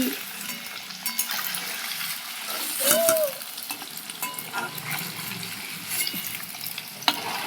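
Paneer pieces frying in hot oil in a pan give a steady, quiet sizzle with a few brief scrapes and stirs, close up and without talk.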